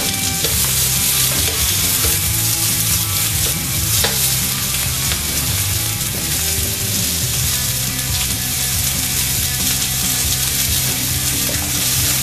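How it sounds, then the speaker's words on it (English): Onions and vegetables stirred and frying in a hot pan for thrice-cooked pork, a dense continuous sizzle with scraping stir strokes, close and loud, no talking. "Give it a bit of a stir. Start to soften those up."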